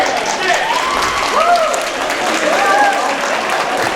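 Wrestling crowd at a match cheering and applauding, a broad sustained roar under an excited commentator's voice.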